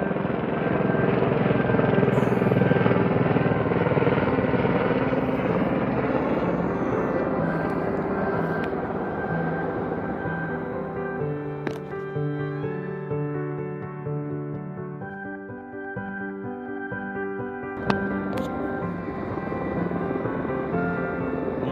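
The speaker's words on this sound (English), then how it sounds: "comes the helicopter." A helicopter working over a grassland fire on a mountainside thrums steadily and loudly throughout, its rotor and engine drone shifting slightly in pitch as it passes.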